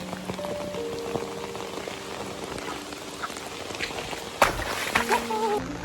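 Rain falls at an outdoor building site where a house is under construction, a steady soft patter with scattered drips and faint tonal sounds in the background.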